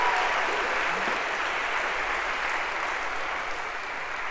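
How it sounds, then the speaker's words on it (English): A lecture hall audience applauds a student, many hands clapping in a dense, steady wash that holds loud throughout and eases off only slightly at the end, with no voices over it. "So a round of applause"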